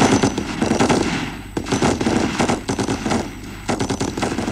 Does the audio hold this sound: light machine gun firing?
yes